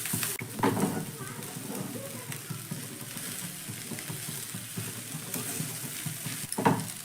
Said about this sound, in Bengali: এবার সবজির সঙ্গে আমি ভুজিয়াটাকে মিশিয়ে নেব।